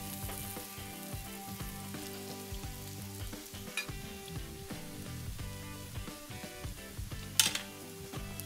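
A steak sizzles in melting butter on a flat top griddle, giving a steady close frying crackle and hiss with scattered pops, fairly quiet overall and free of speech.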